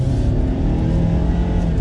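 A 2022 Ford Maverick XL pickup with an EcoBoost engine accelerating: a loud, close, steady engine drone with deep low rumble heard from inside the cab, continuous throughout the short stretch with no talk.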